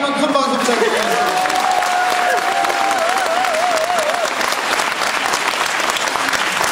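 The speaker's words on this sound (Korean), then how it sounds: "다시 한번 큰 박수 부탁드립니다." A large audience at a Won Buddhist New Year dharma gathering applauds loudly and steadily, a dense wash of clapping that runs the whole stretch, with a brief tonal sound near the start.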